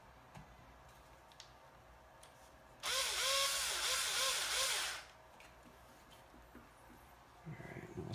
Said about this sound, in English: Go ahead and use the power driver to finish this off.